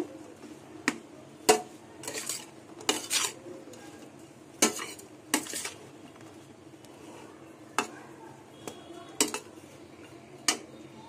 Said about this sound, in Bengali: এবার হলুদ নুন দিয়ে মাছ ভালো করে মিশিয়ে মেখে নেব